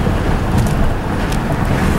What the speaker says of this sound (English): Again, it's windy.